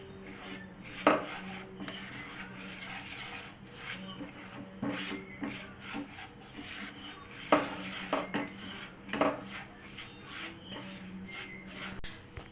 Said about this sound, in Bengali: দিয়ে সুজিটা আমি একদম হালকা আঁচে একটু নেড়ে চেড়ে ভেজে নেব।